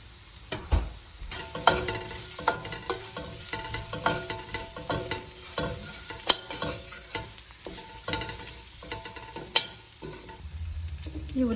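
Onions frying in a pan with salt and turmeric for a tomato cashew curry, a steady close sizzle broken by sharp clicks and scrapes of stirring, with no talking.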